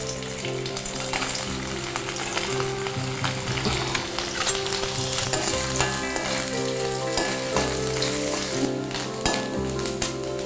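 Coconut pieces fry in hot oil in a pan for festival prasadam, giving a steady close sizzle and crackle that runs without pause, with no voices over it.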